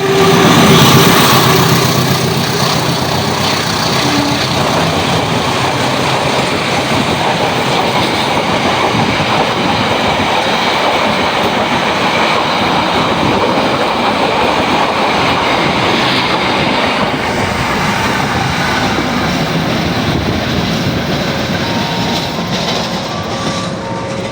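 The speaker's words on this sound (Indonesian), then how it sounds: "saat ini terpantau masuk kereta api Logawa dari arah timur ya" A passenger train hauled by a CC203 diesel locomotive rumbles past close by for the whole stretch as it arrives at a station, loud and steady with rattling wheels and a low engine drone.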